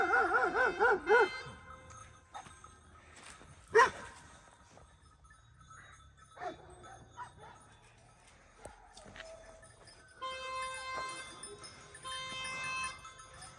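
Hunting dogs bark in bursts, a cluster at the start and a sharp yelp a few seconds later, with other outdoor noises and quiet stretches between.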